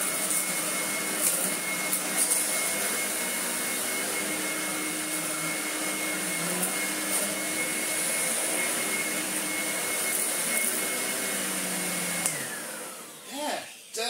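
A Vorwerk Kobold vacuum cleaner runs steadily and loudly with a constant motor whine for most of the stretch, then the pitch shifts and winds down near the end.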